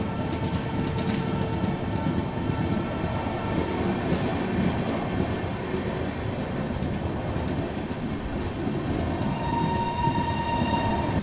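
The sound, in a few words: Patna Amrit Bharat Express train running through Naini Junction in rain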